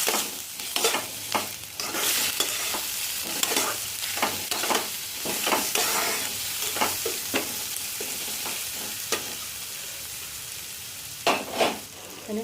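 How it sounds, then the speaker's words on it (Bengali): Spices with turmeric, cumin, salt, Kashmiri chilli and garam masala fry together in a pan, a constant sizzle punctuated by repeated brisk stirring scrapes of a spoon, close up, no voices. "এগুলোকে ভালো করে একসঙ্গে সঙ্গে ভেজে নিচ্ছি"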